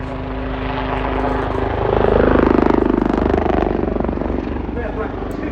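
Red Arrows-style display jets fly past at the RIAT 2024 air show, a loud, sustained engine roar swelling and then easing as they pull away, with a commentator talking over it.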